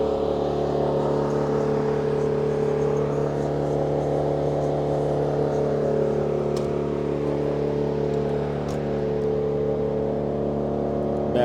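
A Cadillac's engine runs at a steady, sustained rumble with a low droning tone, heard close and loud throughout, with no talking.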